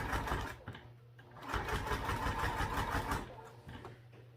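A sewing machine stitches sticky vinyl fitted with a Teflon presser foot, its motor whirring in steady bursts that pause briefly between runs, close and loud.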